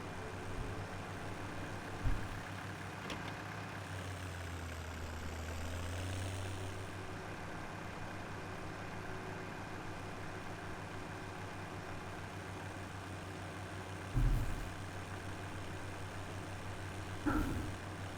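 A tractor engine idles with a steady low rumble in Farming Simulator 17, swelling briefly in pitch midway, with a few sharp thumps and clicks standing out over the drone.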